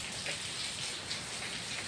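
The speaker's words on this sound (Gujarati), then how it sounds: "વરસાદનો અવાજ આવે છે" Heavy monsoon rain pours down in a dense, unbroken hiss, loud and close with no pauses.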